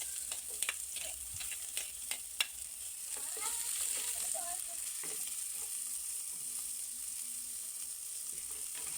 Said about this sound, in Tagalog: Lagay tayong konting mantika. Lagay na natin ng bawang. Sunod na din natin ang sibuyas.